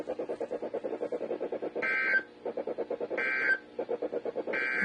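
Weekly test tones of the NOAA All Hazards weather radio emergency alert system: three loud high-pitched tone bursts, each about half a second long, interrupting a steady rhythmic pulsing warble, heard on its own with no talking.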